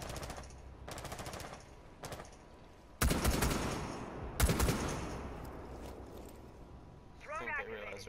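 Bursts of automatic gunfire in the video game Rainbow Six Siege rattle in quick rapid-fire runs, with several heavy loud volleys and other clatter, while a voice speaks over the shooting.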